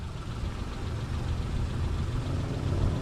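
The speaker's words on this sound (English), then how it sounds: "Now can you hear the engine?" A Hyundai Eon car engine idles steadily with a low, even rumble and light mechanical chatter, close by and without talk.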